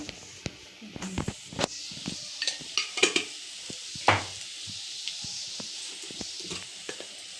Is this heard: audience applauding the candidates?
no